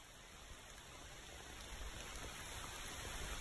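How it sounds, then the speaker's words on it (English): Rain falls steadily during a camping trip in a truck, a soft, even hiss of drops pattering on surfaces, continuous and quiet with nothing else standing out. "More rain."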